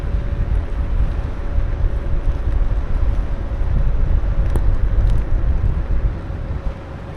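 Steady wind buffeting the microphone of a Joyor S8E electric scooter as it rides into a partial headwind from the right, a loud continuous low rumble with no talking.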